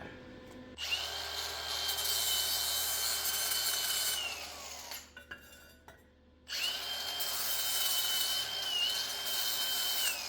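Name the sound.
grinding down a weld on a Polaris Ranger sway bar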